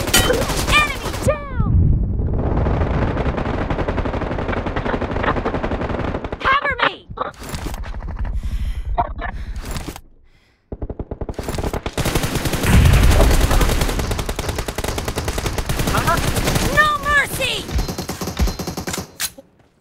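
Dense automatic gunfire in a mobile shooter match, long sustained bursts broken by a brief pause, loud and close, with game voice callouts mixed in.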